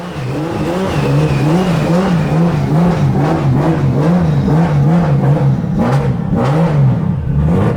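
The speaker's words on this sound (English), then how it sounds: "we're gonna give this car a start up so you can get an idea of how it sounds" A drift car engine rumbles steadily at close range after starting, with a wavering, pulsing idle and occasional revs, continuous throughout with no talking.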